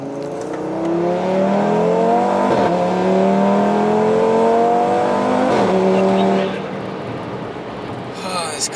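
A turbocharged Audi RS3 with a blown engine accelerates hard from inside the car, a loud, rising engine roar climbing through several gears with brief dips at each shift before it eases off.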